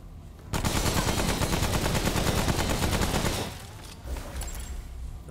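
Gunfire in the video game Remnant: From The Ashes: a rapid, sustained automatic burst rattles for about three seconds, then fades into quieter scattered shots and background game noise.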